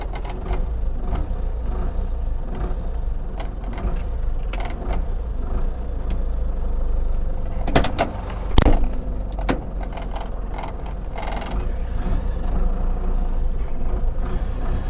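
A Ford F1000 pickup from the 1980s (Envemo Master Las Vegas) with an MWM diesel engine, heard from inside the cabin as a continuous low rumble with a few sharp knocks and clatters partway through, no talking.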